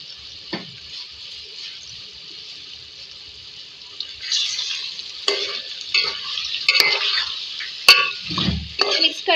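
Beef bhuna with green chillies and garam masala sizzles in a pan as it is stirred. A soft hiss gives way after a few seconds to louder scraping strokes and sharp crackles.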